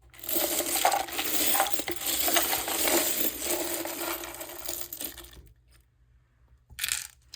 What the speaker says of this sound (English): I'm gonna shuffle the charms that I have here.